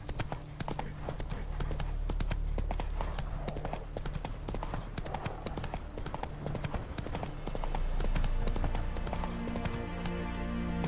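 Roach the horse in The Witcher 3: Wild Hunt, a steady clip-clop of hooves trotting at a regular rhythm, close and continuous, with faint game ambience and a brief voice beneath.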